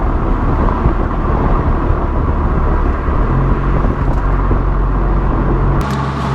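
An Audi S3 8V with a stage 3 tune, Xforce non-resonated catback and 4-inch downpipe, exhaust valves closed, gives a subdued, steady low drone while driving, road and cabin rumble throughout, with no talking.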